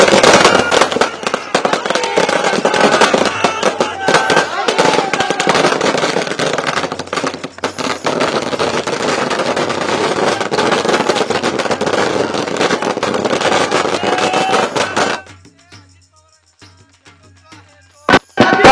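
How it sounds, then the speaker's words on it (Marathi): Party workers set off long strings of firecrackers at an assembly election results celebration, a dense, loud crackle of rapid bangs that runs for about fifteen seconds, then stops abruptly, leaving near silence with a couple of late pops. "कार्यकर्त्यांनी फटाके वाजवायला सुरुवात केलेली आहे"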